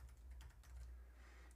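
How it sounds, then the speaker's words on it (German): Light key taps on a computer keyboard while typing at a Linux setup prompt, including an Enter press, heard as a few soft, close clicks over a steady low hum, with no voices. "Jetzt gebe ich hier mal Enter ein"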